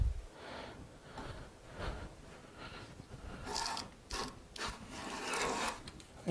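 A WoodRiver hand plane takes thin shavings from wood, giving several soft rasping strokes in a quiet room, each a short breathy swish, with the last few strokes louder and brighter.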